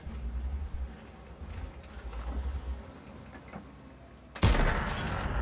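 Artillery fire in the World of Tanks video game: low rumbling booms and distant firing, then a sudden loud close blast near the end, with no talk.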